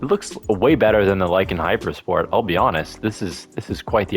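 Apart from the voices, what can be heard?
None of the usual background noises is heard.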